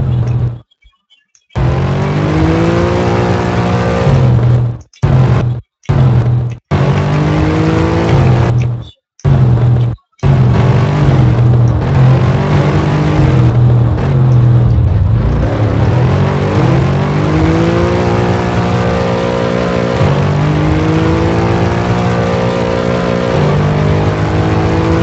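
A car in a video game drives and revs, its engine droning loud and continuous with rising and falling pitch, broken near the start by a few abrupt cutouts of silence.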